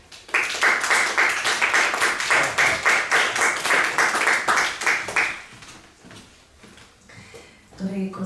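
Audience at a Slovenska matica press conference breaks into loud, sustained applause for about five seconds, then it fades into quieter room noise and a voice begins speaking.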